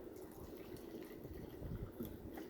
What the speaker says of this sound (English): I'm going to pour it in my water cup